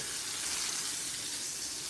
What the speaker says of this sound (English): I think I'm kind of frying my burger in some type of way or form.